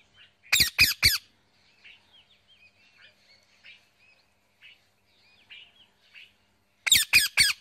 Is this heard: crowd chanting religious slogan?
no